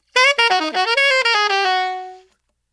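A bebop ii-V-I jazz phrase: a short melodic run of bright, clean sustained tones moving through several notes, ending on a held note that fades out, with no talking.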